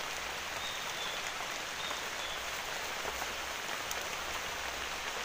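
Rain falling steadily near a cave mouth in the forest, a dense even patter of drops on leaves and surfaces throughout, with no talk.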